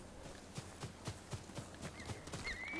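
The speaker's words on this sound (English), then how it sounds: "Horse is chilling far away." In the samurai video game Ghost of Tsushima, a horse's hooves clop in a steady walking rhythm of soft repeated thuds, with a brief whinny rising toward the end, faint and distant.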